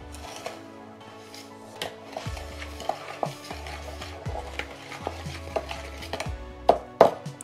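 Brown and white sugar being mixed in a bowl, heard as close scraping and clinking strokes of a utensil in an irregular rhythm, louder knocks toward the end, no voices.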